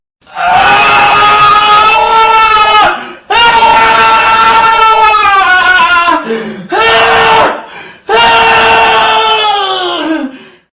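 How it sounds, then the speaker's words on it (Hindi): A man screams as the climax of a horror tale. Several long, loud, anguished cries are separated by short breaths, each one wavering and trailing off, with nothing else heard. "अंत में ऋषभ की चीख सुनाई देती है"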